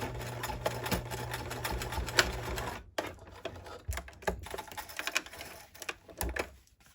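A sewing machine works slowly through very thick fabric for a garden pouf, a close rattling run that stops, followed by softer intermittent clicks and handling noises.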